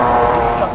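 Race car engine howling at high revs on a test track, a steady loud drone with no break, while excited voices talk over it.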